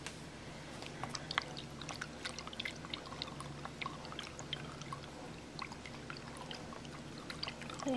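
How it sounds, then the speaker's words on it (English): A skewer stirs a homemade alcohol-based hardwood floor cleaner, giving quick light clicks and taps against the container over a faint liquid swish, close and quiet with no talking. "I am going to stir this with a skewer."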